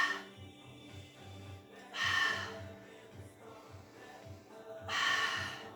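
During a pilates mat exercise, a person breathes audibly and slowly, with two stronger sighing exhalations standing out against quiet, rhythmic breaths.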